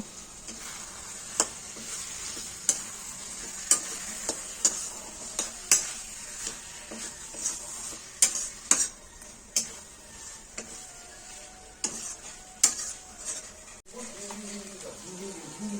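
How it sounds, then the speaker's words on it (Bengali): Boiled banana flower, potato and chickpeas are stir-fried in a pan, a soft continuous sizzle broken by regular sharp spatula knocks and scrapes, with a brief voice near the end. "এবারে দিয়ে দেবো সেদ্ধ করে রেখা মচা আলু আর ছোলাটাকে দিয়ে ভালো করে কষিয়ে নেব"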